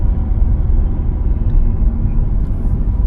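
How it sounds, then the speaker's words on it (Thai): A camper van conversion descends a steep hill road near Khun Dan Dam in second gear, its engine braking as a steady, loud low rumble from inside the cab. "อันนี้ใช้เกียร์สองดึง ใช้แรงเครื่องฉุดรถไว้"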